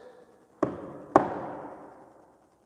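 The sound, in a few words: knocking sound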